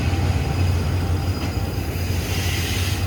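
Thai State Railway GEK diesel locomotive number 4047 hauling an express train at a station, a loud steady rumble of engine and rolling wagons throughout with a low droning hum and no talking.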